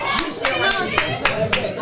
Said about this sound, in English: I'm gonna give you a round of applause first.